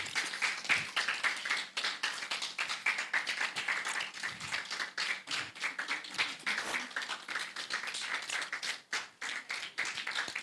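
An audience at a health committee engagement meeting claps continuously, a dense patter of many hands that swells and dips slightly but never stops, fairly close and without any speech.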